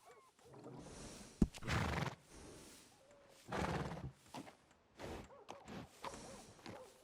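A horse in Red Dead Redemption 2 whinnies and snorts several times in bursts, with a sharp click and soft hoof movement between them, fairly quiet and close.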